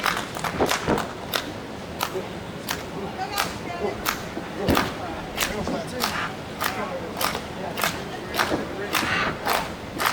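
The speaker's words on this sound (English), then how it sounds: "This crowd willing on Vinny Pacifico to see how much more the Energy Drink King can carry out here tonight in Tomball." Crowd at an indoor wrestling event in Tomball cheering and chanting, a loud steady roar punctuated by sharp rhythmic slaps or stomps at roughly half-second intervals throughout.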